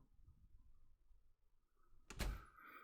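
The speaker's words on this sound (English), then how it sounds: "and shut the door." A door shuts with a single sudden thud and rattle in the Chaos;Child visual novel game, coming after a stretch of faint low ambience.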